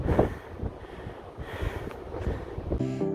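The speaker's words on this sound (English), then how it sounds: "It is already incredibly windy" Strong gusting wind at a mountaintop fire lookout tower, a loud broadband roar buffeting the microphone in uneven surges, with no speech.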